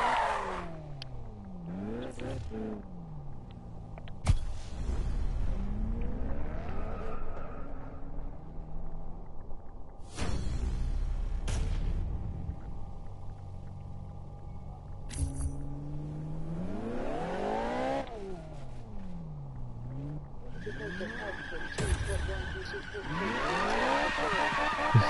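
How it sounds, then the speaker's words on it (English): Cars drag racing in the Need for Speed video game: loud, continuous engine roar that climbs in pitch through repeated gear shifts, with bursts of tire squeal and skidding breaking in every few seconds. "Do a drag race."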